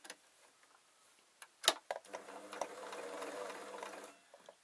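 A sewing machine stitching a small felt rectangle for a napkin ring, starting after a few clicks and handling sounds and running in one steady, quiet whirring burst for about two seconds before stopping.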